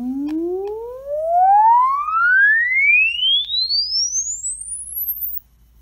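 A generated test tone sweeps smoothly upward in pitch from low to very high, a pure whistle-like glide with faint harmonics that fades out as it climbs past hearing range.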